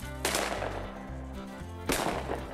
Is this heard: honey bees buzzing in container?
no